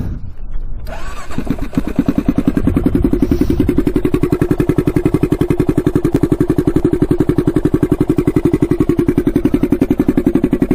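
Turbocharged Honda 400EX ATV engine catching and settling into a loud, close, rough idle with a fast even chugging pulse that runs steadily to the end.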